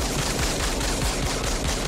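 Sustained, dense gunfire from the 1992 action film Rapid Fire starring Brandon Lee, a loud, continuous automatic barrage with rapid overlapping shots and no talking.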